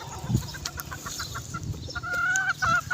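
Gamefowl chickens at a small Filipino game farm give soft, scattered clucks and brief calls, with a couple of clearer higher notes late on, all against a steady background murmur.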